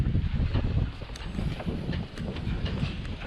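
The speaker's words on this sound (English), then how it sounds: "it's very windy" Steady low rumbling wind buffeting outdoors, a continuous rough roar with gusty swells and no voices.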